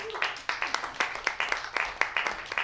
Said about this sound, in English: Clap it up if you're married.